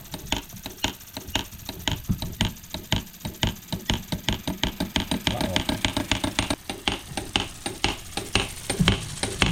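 A miniature model drop hammer, run off a small steam-powered engine, strikes in a steady, rapid rhythm of sharp metallic taps, close and moderately loud, with a faint mechanical hum beneath.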